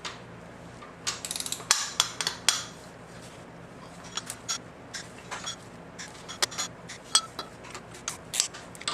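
A ratchet loosening 14mm bolts on the AC compressor of a Nissan SR20DET engine during teardown, with close, irregular bursts of clicking and metallic taps throughout.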